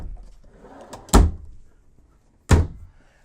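Two separate thuds from a drawer in a 2019 Winnebago Outlook 27D RV being shut or opened, each a short, close, solid knock with a quiet gap between them.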